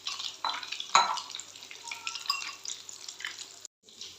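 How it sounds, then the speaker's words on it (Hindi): Fish kababs fry in a pan with a steady, close hissing sizzle, broken by a few sharper pops and a brief dropout near the end. "इस तरह से पैन में भर के हमने इनको डाल के फ्राई कर लेना गोल्डन होने तक"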